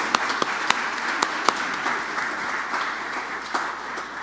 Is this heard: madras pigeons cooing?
no